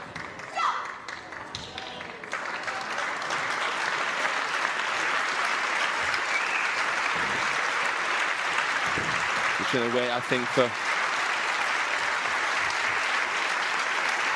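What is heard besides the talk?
audience applause at table tennis match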